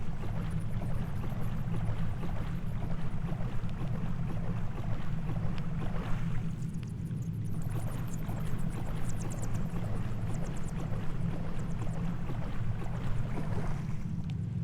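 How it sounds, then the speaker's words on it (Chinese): A monster shaped like a washing machine approaches through a dark, water-filled maze in the first-person horror game Washout, heard as a steady, low mechanical rumble with a watery hiss, continuous and unbroken, with no speech. "我好像听到怪物的声音了。"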